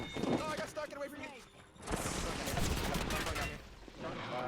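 Gunfire in Apex Legends, dense bursts of shots heard from about two seconds on, loud and continuous, with a player talking over the opening moments.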